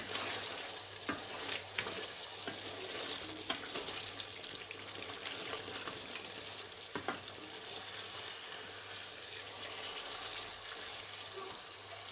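Black pepper being stirred into a street-style Peshawari chicken karahi, a continuous close sizzle of frying with scattered sharp scrapes and clicks of stirring, and no talk.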